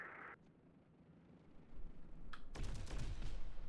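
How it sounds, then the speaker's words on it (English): Artillery explosions in the video game Terminator Dark Fate: Defiance, starting with a faint distant rumble, then swelling into a heavy, rolling barrage of booming blasts and crackling impacts that grows louder toward the end. "I just hear the explosions, and I know the artillery's done the work."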